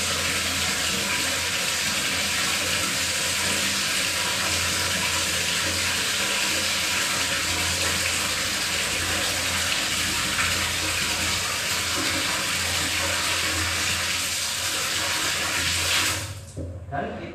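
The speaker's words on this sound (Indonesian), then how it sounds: "Setelah kulit kedelai terkelupas, kita cuci kedelai." Peeled soybeans are washed in water for tempeh, a steady loud rush of running water and sloshing that continues throughout and drops off abruptly near the end.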